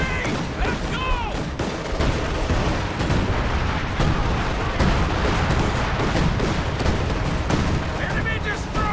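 Booming 105mm artillery and gunfire in the Company of Heroes 2 war game, heavy repeated blasts with rattling fire layered over a dense battlefield din, with shouted voices faintly underneath.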